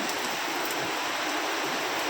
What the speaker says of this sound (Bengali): অনেক বৃষ্টি হচ্ছে বাইরে।